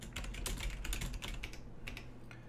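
Fingers tap rapidly on a computer keyboard while filling in login details, a dense run of close, crisp key clicks with brief irregular pauses and a faint low hum behind.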